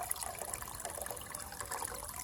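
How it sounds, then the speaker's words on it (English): Water from a hot water bottle pours out in a steady, fairly faint splashing stream at a winter stealth camp by an e-bike, continuous throughout. "we'll pour this out from our hot water bottle"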